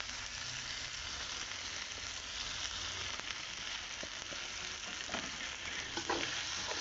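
Meat sizzles and fries steadily in a pan on a new rooftop stove at a homely picnic-style cookout, with a continuous crackling hiss and occasional scraping stirs and clinks near the end.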